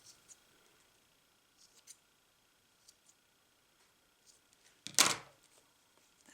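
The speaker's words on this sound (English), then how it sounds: "snip my little ends here" Scissors make a single crisp snip through crocheted yarn ends, close and fairly loud after a few faint ticks of handling.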